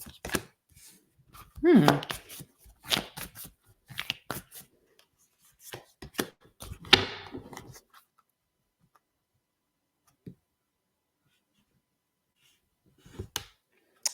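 A deck of tarot cards is shuffled by hand, giving crisp snapping and riffling bursts for several seconds, then quieter with a few sparse taps, and a brief murmur of voice in between.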